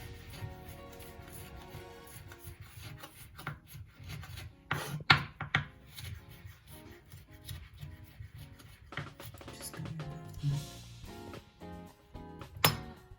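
A knife roughly chopping ingredients for vegan curry lentils on a cutting board, with irregular knocks and scraping taps, fairly quiet and close, including a few sharper strikes.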